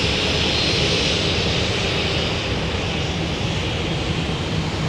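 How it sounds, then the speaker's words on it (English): An Amazon Prime Air airplane's jet engines roar steadily and loudly at Minneapolis–St. Paul airport in winter, a broad continuous rushing noise with no voices. "That's a good-looking airplane, isn't it?"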